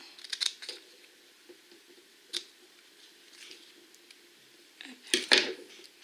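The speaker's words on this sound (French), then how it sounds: "je coupe mes étiquettes" Scissors snip paper labels in a few quick, separate cuts. There are two brief clusters near the start and a sharper, louder burst near the end, with quiet handling between them.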